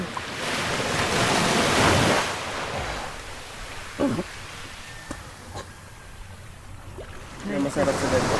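Sea waves washing onto a seashore at General Nakar, a broad rushing surge swelling then easing under wind noise, with people talking nearby.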